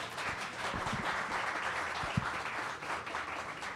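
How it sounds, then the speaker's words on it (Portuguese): At a literary café event, an audience gives warm, sustained applause for writer Nana Pauvolih, a dense and even wash of many hands clapping together at moderate loudness. "um aplauso muito caloroso para a Nana Pavolli"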